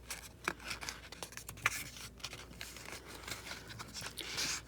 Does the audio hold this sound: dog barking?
no